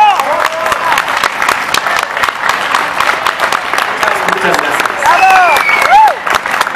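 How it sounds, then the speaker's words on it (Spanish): Audience applause at a live music and poetry show, steady dense clapping throughout with a few shouted cheers and voices rising near the end. "Fuerte el aplauso para Fernando Rivera y para el señorón."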